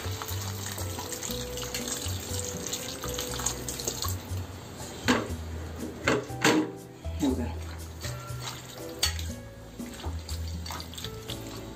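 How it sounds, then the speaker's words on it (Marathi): Water poured into a cooking pot of bitter val beans in a home kitchen, a steady close splashing and trickling with a few louder sloshes. "पाणी घालतो, वाल बुडतील एवढं पाणी घालायचं."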